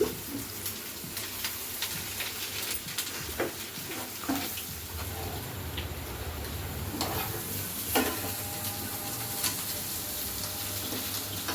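A carrot, potato and egg curry frying in plenty of oil, a continuous sizzle with repeated spoon scrapes and stirring knocks against the pan, close and steady with no one speaking.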